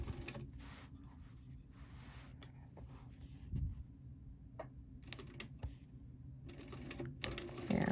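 A sewing machine stitches a quilt with a stencil-marked lattice background, giving short bursts of rapid ticking separated by pauses, close and fairly quiet.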